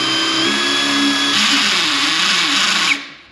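A Caterpillar DX13 graphene cordless drill runs on a test into a piece of wood: a loud, steady motor whine with a tonal hum holds for about three seconds, then cuts off abruptly, leaving a brief fade.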